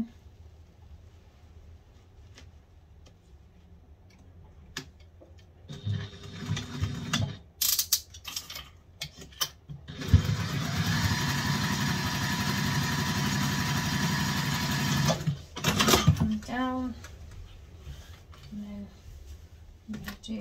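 A sewing machine stitches the seam of a fabric cross body organizer bag, a steady mechanical whir running about five seconds, bracketed by shorter bursts of machine noise and handling clatter, with a person talking at moments.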